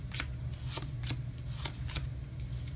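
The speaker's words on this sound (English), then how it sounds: "I'm gonna do a quick shuffle, and I'm gonna draw my 4 cards to complete my hand." A deck of trading cards for a Yu-Gi-Oh Ancient Gear game gets a quick shuffle: several crisp riffling bursts at a steady rhythm over a low constant hum, close and fairly loud, with no talking.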